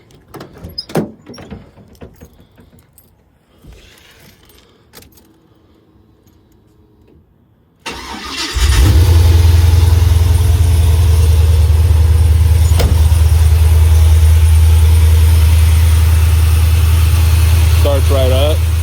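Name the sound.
LS V8 engine starting and idling in G-body Cutlass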